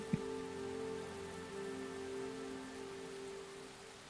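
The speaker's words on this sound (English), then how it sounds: "So now it's lighter rain." Steady rain falls in the video game Enshrouded, a continuous soft hiss with a sustained tonal ambient hum running beneath and one brief click near the start.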